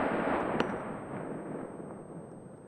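A single gunshot from the video game SCUM cracks early on, followed by a rumbling echo that fades out over a couple of seconds; fairly quiet and with no speech.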